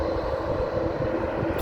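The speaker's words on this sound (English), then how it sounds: "You got a Transavia A321neo across the runway, going over to the hangar. Don't believe it's gonna take off from there. Nope, it's oh yeah, it is gonna take off." A Transavia Airbus A321neo taking off at Amsterdam Airport, a steady distant jet engine roar holding level throughout with no speech.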